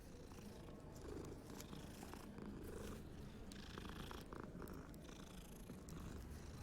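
A cat in the video game Hogwarts Legacy purrs softly and continuously, a low rumbling throb that stays faint and steady with no talk over it.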